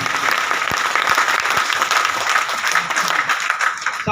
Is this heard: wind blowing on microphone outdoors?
no